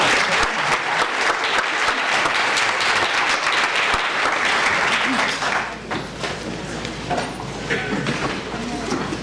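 An audience applauding a speaker's welcome at a scientific meeting, dense sustained clapping filling the room, then thinning and fading as the speaker begins to talk.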